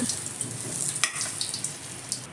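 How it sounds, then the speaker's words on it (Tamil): Chicken lollipop pieces frying in hot oil, a steady crackling sizzle with scattered pops, fairly close and alone with no talk. "அடுத்தது போட்டு பொரிக்கிறாருங்க."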